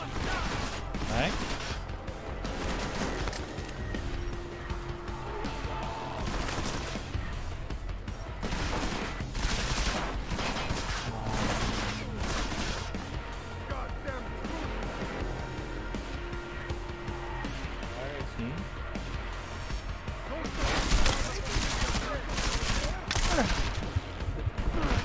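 Bursts of gunfire from the Deus Ex video game, repeated rapid shots and impacts scattered throughout amid game noise and frequent talking.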